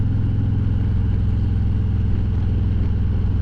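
A motorcycle fitted with a Vance and Hines Eliminator 400 exhaust runs near and loud, its low, pulsing exhaust note thumping in a fast, even beat at steady revs around a gear shift.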